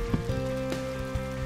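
Steady rain pours in the Ayo The Clown video game on Nintendo Switch, a soft continuous hiss with faint drops, layered over sustained background music and no voices.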